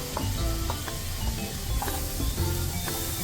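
Three chopped tomatoes dropped into hot butter paneer masala set off a loud, dense sizzle with stirring and scraping of a spoon against the pan, close up and continuous, no voices.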